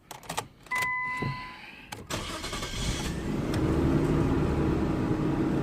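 A Nissan Skyline's engine cranks with a brief electronic chime, then catches and settles into a steady idle that continues to the end.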